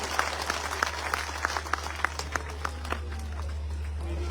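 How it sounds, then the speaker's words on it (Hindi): Sparse, scattered clapping from a modest outdoor crowd at a Hindi election campaign rally, with distinct individual claps standing out over a steady low hum, thinning out toward the end. "एक बार तालियां बजा करके आपका अभिनंदन करें।"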